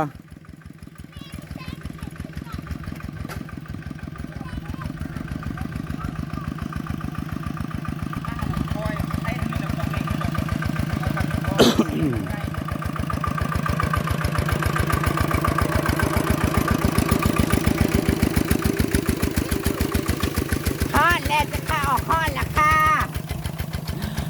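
A small single-cylinder walking tractor engine chugs steadily with a rapid, regular thumping beat, close by and running throughout, with faint voices at times.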